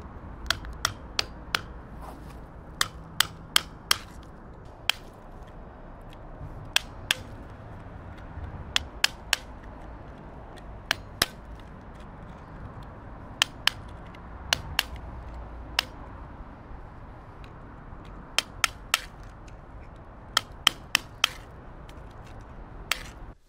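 A Wera Kraftform Kompakt 900 screwdriver with a wide flat bit, used as a chisel on a concrete slab, makes sharp, irregular clicks and taps, sometimes in quick clusters, over low background noise.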